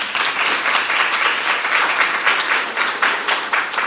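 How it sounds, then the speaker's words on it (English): Audience applause at a cohort graduation for a hip and knee funding model program, a dense, loud, sustained burst of many hands clapping throughout. "let's give a round of applause."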